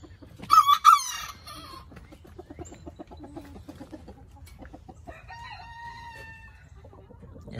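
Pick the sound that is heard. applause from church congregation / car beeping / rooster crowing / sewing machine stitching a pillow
rooster crowing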